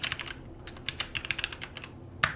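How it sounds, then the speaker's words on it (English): Rapid, uneven clicking of keys on a computer keyboard, close by, with short pauses between bursts and a sharper keystroke near the end. "My typing skills are atrocious."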